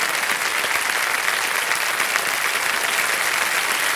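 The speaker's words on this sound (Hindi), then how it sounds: "तालियों के साथ इनका हम अभिनंदन करते हैं।" Steady, dense applause from a game show studio audience, loud and sustained for the whole stretch with no voices over it.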